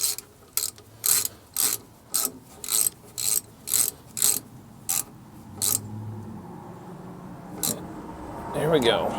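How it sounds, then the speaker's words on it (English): A socket ratchet with a 14 mm socket tightens a brake caliper bolt on a 2011 Ford F250. About a dozen quick, sharp, close clicks come in a fast rhythm, followed by a few scattered clicks and light rubbing. "tighten it down with a 14."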